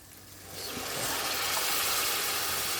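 Hot water poured into a pan of cooked onions and spices for a fish bhuna, a broad steady gush of liquid that swells after a quiet start and keeps running loudly to the end, no voices.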